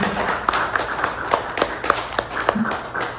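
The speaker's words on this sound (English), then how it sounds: "So I would like you to please give a big applause for the sponsors and the company" A small group at a cricket club kit distribution ceremony claps for sponsors, the sparse, uneven individual hand claps standing out distinctly rather than blending into a full roar.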